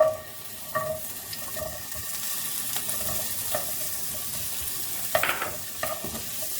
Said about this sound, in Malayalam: അപ്പോൾ ജസ്റ്റ് നമ്മൾ ഇതിനകത്തേക്ക് കൂർക്ക ഇടുന്നു.